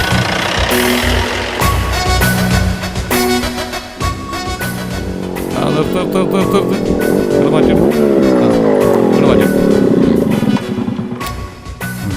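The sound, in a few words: vehicle driving off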